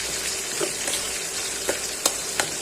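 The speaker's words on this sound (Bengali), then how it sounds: "এখন পেঁয়াজটা ভাজা হয়ে যায়।" Onion frying in hot oil with cardamom, cinnamon and bay leaf, stirred in a pan: a steady bright sizzle with a few sharp crackles and soft stirring clicks.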